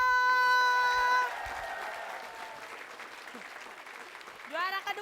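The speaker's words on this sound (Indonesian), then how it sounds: "Tepuk tangan dulu" Studio audience applause during an Indonesian TV game show, a broad clapping wash that follows a musical sting and fades under a host's voice that comes in near the end.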